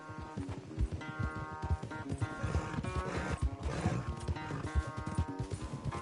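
Hooves of a galloping horse in Red Dead Redemption 2, during a race, pound in a steady fast rhythm close by, with tonal music playing underneath.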